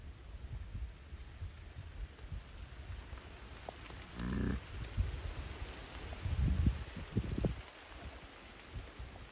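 Rain and gusting wind from a summer storm on a Peak District farm, fairly faint, with low buffeting rumbles and a brief burst of noise midway.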